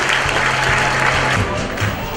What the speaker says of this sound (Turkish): Ve sevgili hocamız Oğuz Saygı'nın alkışlarını devam ediyoruz